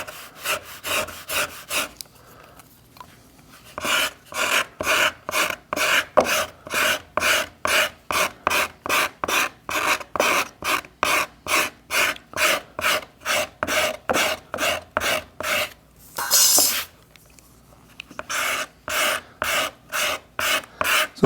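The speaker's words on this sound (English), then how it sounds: "try this other scraper" A hand scraper works the carved inside of a wooden archtop guitar plate in close, steady back-and-forth strokes, a rhythmic dry rasp that pauses briefly and then resumes, with no talking.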